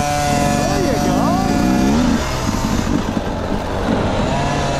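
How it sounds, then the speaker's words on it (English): A motorcycle engine is held under throttle during off-road riding practice with jumps, giving a loud steady drone that shifts in pitch. A voice talks over the engine early on. "Give it a little throttle."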